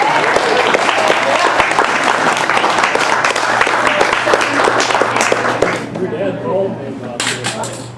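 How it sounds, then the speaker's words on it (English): Lively applause from guests at a birthday gathering, a loud, continuous crowd clapping with some cheering mixed in, gradually thinning toward the end as voices and room noise take over. "How about a round of applause for Sandy?"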